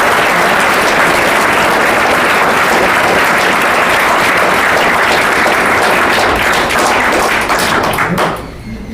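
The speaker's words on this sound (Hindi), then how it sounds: "तो एक बार अपने आप लिए भी ताली।" Loud, sustained clapping from many students in a hall at a Class 10 farewell ceremony, thick and continuous for most of the stretch before breaking off near the end.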